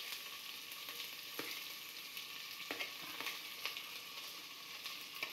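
Thin-sliced onions sizzle and fry steadily in oil inside a pressure cooker for mutton dalcha, a continuous crackling hiss with occasional soft stirring clicks.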